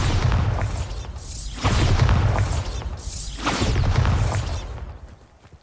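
A Bombarda spell explosion in the Hogwarts Legacy video game: loud, deep booming blasts with rushing whooshes, repeated in rolling waves before fading out at the end.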